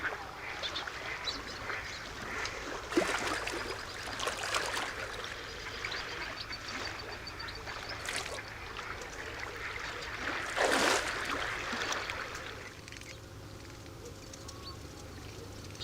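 Ducks and other waterbirds quack and call across the Villafáfila salt-lake wetlands in autumn, scattered calls rising over a soft continuous background of water and wind, with a louder burst of calls midway.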